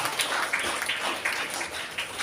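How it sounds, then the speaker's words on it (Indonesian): Audience applause for teachers and students at the closing ceremony of a boarding school's public exam at MTsN 1 Kota Bima, a steady, dense clapping of a crowd sustained throughout with small surges. "Tepuk tangan kepada buat Bapak Ibu guru santri."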